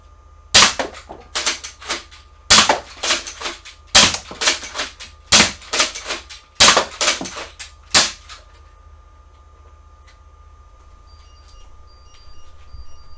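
Jet Blasters Alpha RT kit toy blaster firing at a room corner, about ten sharp, close snapping shots in an uneven series, followed by quiet with faint electronic beeps.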